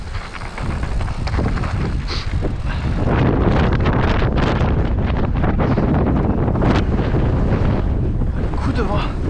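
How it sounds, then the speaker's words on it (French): A strong, roaring gust of wind buffets the microphone during a mountain bike ride in the Cévennes near Valgorge, loud and continuous, building stronger midway and staying blustery to the end. "Coup de vent."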